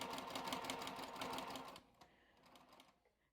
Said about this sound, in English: So now I'm just going to sew along the edge.